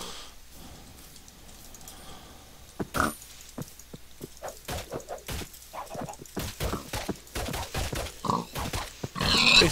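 Pig grunting and oinking in Minecraft, a string of short grunts with irregular rhythm, growing busier and louder toward the end amid soft thuds.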